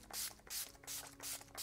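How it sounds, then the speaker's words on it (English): Urban Decay All Nighter setting spray misted onto a made-up face, four quick hissing pump bursts in a steady rhythm, close and crisp with no talking. "I'm going to spray my face down with the Urban Decay All Nighter Setting Spray."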